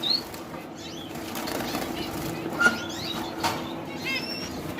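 Gouldian finches in an aviary flutter their wings in soft, repeated bursts, with faint high chirps scattered over a steady low background hum.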